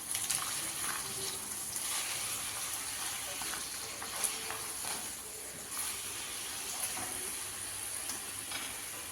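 Whole spices, dried chillies and bay leaves frying in hot oil, making a steady close sizzle with faint crackles throughout and no voices.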